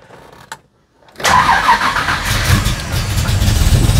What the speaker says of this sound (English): now I'm gonna start the engine. Hopefully it starts.